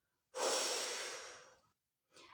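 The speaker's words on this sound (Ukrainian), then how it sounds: "І видих через рот." A slow exhale through the mouth during a relaxation breathing exercise: one close, soft, breathy rush that trails off gently, followed by the start of another breath.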